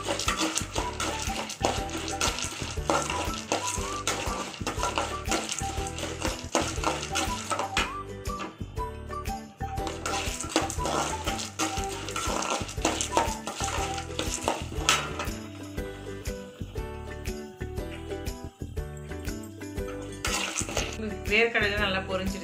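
Steady crackling sizzle of peanuts frying in hot oil in a pan, continuous and close, with occasional stirring clatter and no talking.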